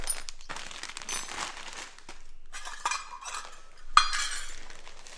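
Brown sugar gets stirred into melted butter in a bowl, making close scraping and clinking sounds with brief pauses and one sharper clink near the end.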